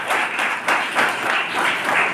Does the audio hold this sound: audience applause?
yes